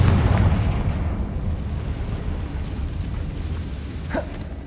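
A Confringo spell explosion in Hogwarts Legacy lands as a loud, close blast with a deep rumbling boom that slowly fades into a sustained roar, with no talk.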